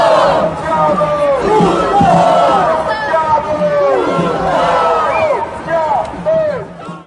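Large crowd at a pro-Gaza protest march in Italy, voices rising and falling together in chanted slogans, loud and continuous with dense overlapping shouts throughout.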